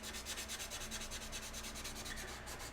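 Rhythmic, gritty rubbing strokes repeat steadily and close up, a soft wet scraping back and forth with a faint low hum underneath.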